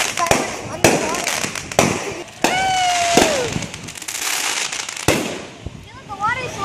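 Fourth of July fireworks burst beside a Florida pool: a series of sharp, loud explosions and rising whistles arrive in irregular succession, with voices audible in the background.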